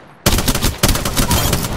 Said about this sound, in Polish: Zauważyli mnie. Jestem pod ostrzałem.